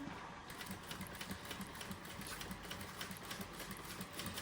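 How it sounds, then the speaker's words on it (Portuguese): A sewing machine stitches quilted matelassé fabric in a fast, even mechanical rhythm of rapid needle strokes, heard faintly and steadily without voices. "E vou costurando bem retinho."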